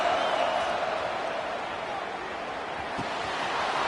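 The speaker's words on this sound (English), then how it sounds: "And here comes the noise. This crowd is trying to inspire this defense to make a big red zone stop." A football stadium crowd roars in a steady, broad wash of noise during a red zone defensive stand, loud and continuous with no distinct voices standing out.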